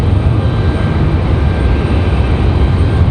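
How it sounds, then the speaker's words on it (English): A JetBlue airliner departs the runway at Raleigh-Durham International, a loud, steady broadband jet roar with heavy low rumble holding throughout, close and continuous. "JetBlue, rapid fire departure for these two."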